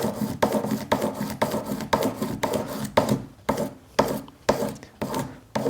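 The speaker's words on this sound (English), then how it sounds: "Then we're going to get a buff stick just to buff over that joint." A buff stick rubs back and forth over the joint of a spinner ring in a regular series of short, close scraping strokes, about two per second, with no talking.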